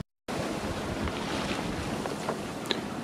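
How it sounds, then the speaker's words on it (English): Strong wind of 16 to 21 knots rushing over a sailboat at sea, with steady broadband roar of gusts, wind buffeting the microphone and waves washing against the hull, loud and continuous. "we've actually got quite a lot of wind now, between 16 and 21 knots"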